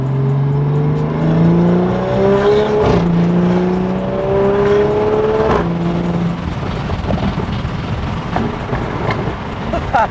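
A wide-body Toyota Supra's engine revs hard several times, its pitch climbing in repeated rising sweeps before settling into a rougher rumble.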